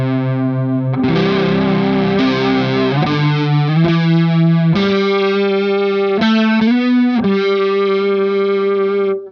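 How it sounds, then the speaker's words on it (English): Electric guitar run through a JAM Pedals Pink Flow pedal set for fuzz chorus, sustained notes that change every second or so, thick, loud and synth-like, played alone. "Let's go for a fuzz chorus thing"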